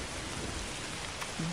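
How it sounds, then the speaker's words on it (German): Steady rain in the video game Don't Starve: Hamlet, a dense continuous hiss with a faint low rumble underneath, with no talking. "Das ist der verdammte Regen."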